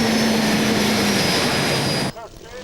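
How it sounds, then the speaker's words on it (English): A pulling tractor powered by twin Super Frelon helicopter turbines roars at a 1995 European tractor pulling event in Hörby, Sweden, with a loud, sustained high turbine whine that cuts off abruptly near the end. "Its two turbines are from a Super Freelon helicopter, and they propelled him to a distance of"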